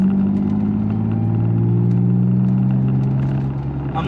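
A BMW E36 M3 engine during gentle, normal driving gives a steady, loud, humming drone with sustained low tones. The pitch shifts slightly and then eases toward the end, with no voices.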